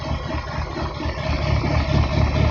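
A car engine holds at a steady 2000 rpm against a launch control rev limiter, a continuous low droning hum with a slight pulsing stutter, close and moderately loud.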